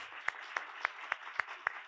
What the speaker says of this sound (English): could you all give a round of applause for our four fantastic